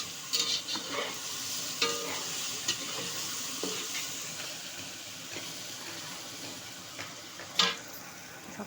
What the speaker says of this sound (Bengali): এই যে আলু ভাজা হয়ে গেল।